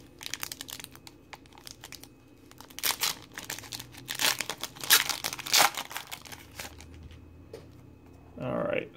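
2016-17 Excalibur basketball hobby box trading card packs are torn open by hand, with crinkling foil wrappers and sharp ripping bursts, close and fairly loud, amid a brief murmur of speech.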